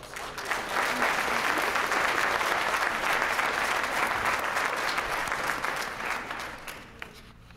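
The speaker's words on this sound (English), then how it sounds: "Let's give these students a round of applause." Warm, steady applause from an audience honoring graduating high school students, swelling quickly and sustained for several seconds before thinning out to a few last claps.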